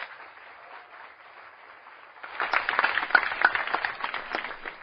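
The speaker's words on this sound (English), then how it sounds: "If you'll applaud that, you'll applaud anything." An audience at a university debate on drugs at Sussex University breaks into applause: a dense, rising wash of many hands clapping that swells and holds after a quieter, muffled stretch.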